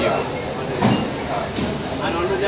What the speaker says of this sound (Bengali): ট্রেন আমাদের শিয়ালদা স্টেশন থেকে ছেড়ে দিল